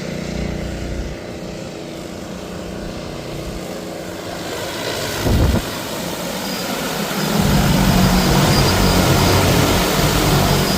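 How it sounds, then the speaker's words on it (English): An agricultural spray drone flies over a cornfield. Its propellers give a steady buzzing whine that swells into a loud, full roar as it comes overhead about midway, then stays close and strong. No one speaks. "see where the drone's flying. Watch it coming right at us."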